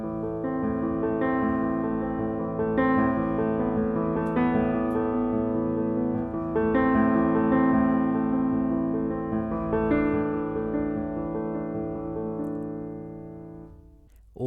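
A piano plays a simple beginner finger exercise at a brisk tempo, a steady run of notes sounding alone and close for about fourteen seconds before stopping.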